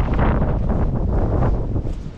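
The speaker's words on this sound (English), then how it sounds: "We've got the old storm going on." Stormy wind gusting outdoors and buffeting the microphone, a loud low roar that stays constant for the whole short stretch.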